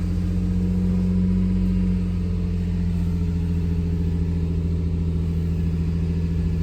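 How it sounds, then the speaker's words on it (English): A Lexus IS300 engine runs at a steady high idle right after starting, a loud, continuous low rumble with a constant tone and no speech. "so she's got a high idle"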